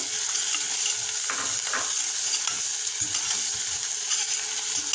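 Chopped green coriander sautéing with pepper and garlic in a hot pan, a steady close sizzle with scraping stir strokes now and then, no voices.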